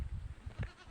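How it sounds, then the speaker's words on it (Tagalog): Goats on a mountain trail in Barangay Silangan, Luzon Datum, bleat in a brief cluster of low, wavering calls heard close by. "Ito, madaming kambing dito sa pag-akyat."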